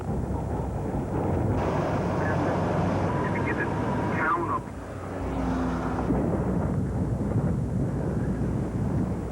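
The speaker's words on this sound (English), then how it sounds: "The wind is whistling very heavily outside" Strong hurricane wind whistling and roaring outside during a 1985 storm, a continuous heavy rush with surges and a brief lull midway.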